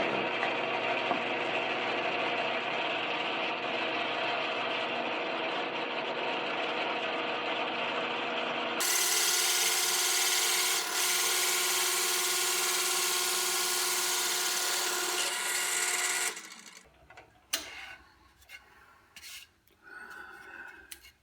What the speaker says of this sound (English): I'm running as slow as RPMs as the drill press will go to prevent chatter.